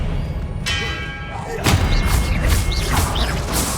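Confringo blasting spells fire in Hogwarts Legacy, a booming explosive hit followed by further resonant blasts and clanging impacts, loud and close amid combat noise.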